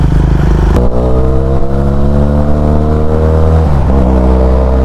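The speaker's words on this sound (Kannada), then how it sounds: "ಒಂದು ಸ್ವಲ್ಪ ಫ್ಲೈ ಬೈ ಕೊಡ್ತಾರೆ ಇವಾಗ ಫರಾನ್ ಅವರು ನೋಡಿ" Motorcycle engine at a group ride near Dabaspete, loud and close with strong harmonic drone, a sharp rev change early then pitch sweeping down as the bike passes, alone without talk.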